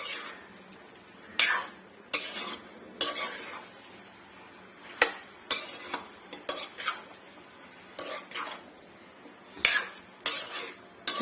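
Metal spoon stirring chicken curry in a pot after salt and turmeric go in, giving a string of sharp clinks and scrapes against the pot at an uneven pace, close by with no talk.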